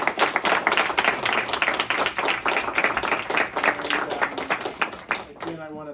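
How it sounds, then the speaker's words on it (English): An audience at an environmental roundtable gives a senator a round of steady, close applause, many hands clapping densely before fading, with a voice starting up at the very end. "Let's give a round of applause for Senator"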